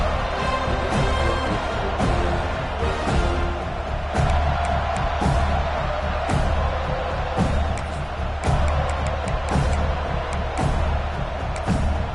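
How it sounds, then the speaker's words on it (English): A home crowd roars and cheers loudly at a college football game in a video game, a dense continuous wash of crowd noise punctuated by sharp slams and bursts throughout. "how nice is it to have the home crowd going absolutely bananas"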